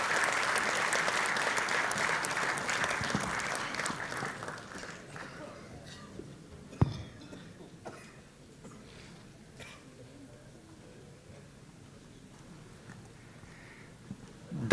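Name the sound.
audience applause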